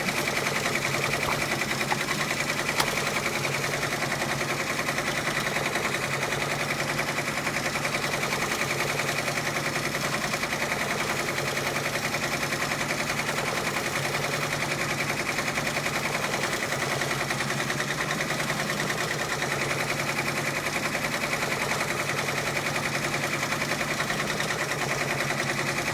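A home sewing machine stitching steadily, a continuous close mechanical whir with fine rapid needle clatter running the whole time and no talk over it.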